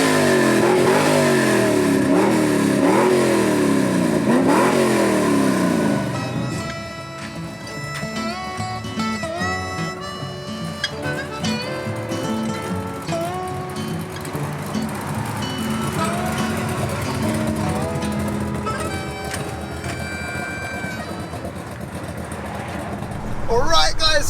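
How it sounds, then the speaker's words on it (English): A 50-year-old Chevy farm truck sleeper revs hard with rising and falling engine sweeps for several seconds. It then drops to a lower, rougher running note while voices talk over it, and the engine surges again briefly at the end. "we're out in the crazy Chevy farm truck and the revving"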